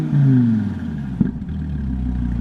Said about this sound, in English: yeah, get some revs.